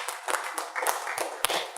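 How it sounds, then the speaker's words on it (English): A stand-up comedy audience gives a short burst of scattered applause, with separate hand claps close by and a little crowd noise underneath. "I want a round of applause for that"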